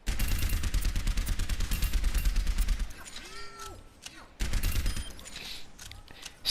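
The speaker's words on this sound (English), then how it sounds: "you gun them down at range with pulses of Soldier's pulse rifle" Soldier's pulse rifle in Overwatch firing dense rapid bursts of shots for several seconds. A short lull carries other game sounds, then the firing starts again.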